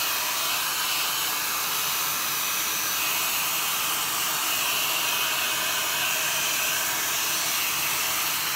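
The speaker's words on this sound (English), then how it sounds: "now I'm gonna use my heat gun. So this is my heat gun, cheap one from Lidl." A cheap Lidl heat gun blows steadily onto acrylic pour paint, a constant loud airy whoosh with a fan hum that holds unchanged throughout, with no voices.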